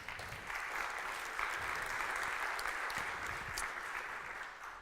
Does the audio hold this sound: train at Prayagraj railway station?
no